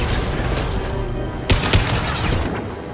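Rifle fire in Mass Effect 2 during a combat scene, with two sharp shots around the midpoint standing out over a dense, steady bed of game action and noise.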